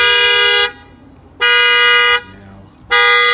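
Honda Accord alarm set off by a tap on the window, blaring its car horn in loud, close, sustained honks with brief gaps between them, heard alone.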